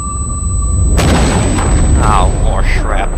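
Explosion during Metal Gear Solid V gameplay: a sudden loud boom with a rumbling tail and debris noise, under a steady game soundtrack, with voices talking over it.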